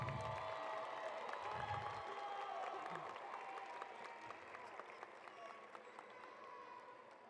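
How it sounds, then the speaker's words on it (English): Graduates at a high school graduation ceremony give a round of applause for their parents and families, a broad crowd clapping with scattered whoops that fades gradually, heard from a distance across a large venue. "give your parents and family members a thank you and a round of applause"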